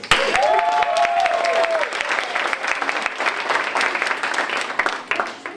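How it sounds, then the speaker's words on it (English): Dense applause fills the space throughout, with a few whoops rising above the clapping near the start. "Round of applause for David."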